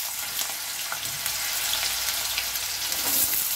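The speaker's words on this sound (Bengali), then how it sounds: "আলুটা একটু নাড়াচাড়া করব, হালকা লাল লাল হয়ে আসবে।" Potatoes and a bay leaf fry in hot oil with a dense, even crackling sizzle, close and steady throughout, with faint stirring scrapes.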